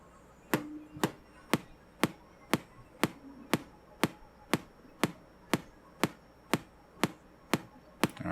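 A sharp, clicking pulse beats once a second, perfectly even and repeated about fifteen times at a faint, steady level against a quiet background hiss.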